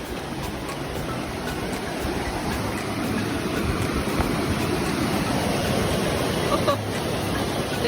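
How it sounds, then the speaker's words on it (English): Waterfall along Perseverance Trail in Alaska, a continuous broadband rush of falling water that stays steady and fairly loud throughout, with a voice briefly heard over it. "There's the waterfall"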